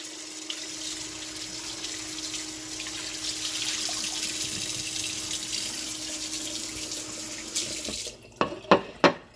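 Cold water runs from a kitchen tap over food being washed, a steady close rushing stream that stops near the end, followed by a few sharp clatters.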